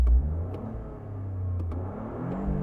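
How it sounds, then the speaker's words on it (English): A sports car engine revs with a deep, throaty rumble, its pitch rising and falling briefly, close by with no talking. "just revving it up. It sounds awesome."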